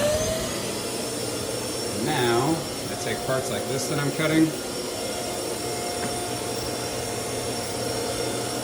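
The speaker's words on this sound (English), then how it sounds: "Fire up this vacuum." A vacuum for a desktop CNC vacuum hold-down table runs with a steady, loud whine throughout, while someone speaks briefly over it midway.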